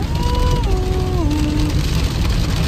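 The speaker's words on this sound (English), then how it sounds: "it's raining out here" Rain falls steadily outside a car with people inside, a constant hiss of drops on the roof and windows, with a faint rising and falling tone drifting over it.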